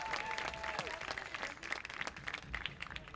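A crowd applauds the Garrett County Golden Lion band seniors at an evening school event, with brisk clapping heard at a moderate distance and some voices and cheers mixed in.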